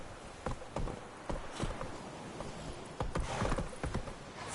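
Roach, a horse in The Witcher 3 Wild Hunt, gallops with steady, close clip-clop hoofbeats in an uneven rhythm, alone with no voices.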